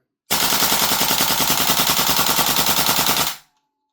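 A Tokyo Marui AKM airsoft gun with a standard recoil spring fires a single steady full-auto burst of about three seconds, a loud, close, rapid mechanical rattle that stops abruptly.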